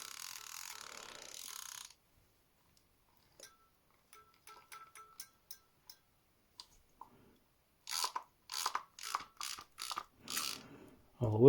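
A vintage fishing reel, freshly greased and reassembled, ticks with sparse ratchet clicks as it turns, then speeds into a quicker run of crisp clicks, close up in a quiet room.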